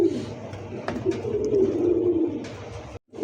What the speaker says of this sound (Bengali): বিগ সাইজের একটা কবুতর ভাই মাশাআল্লাহ।